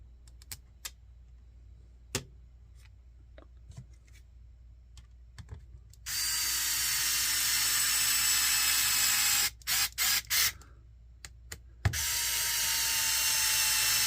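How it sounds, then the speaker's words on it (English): A 6-volt electric screwdriver drives screws into a Tamiya CC-02 Toyota Land Cruiser 40 RC kit, giving sharp clicks followed by two sustained close whirring runs with brief stops between them. "The 6-volt drivers will change your life if you've never used them while building a kit before."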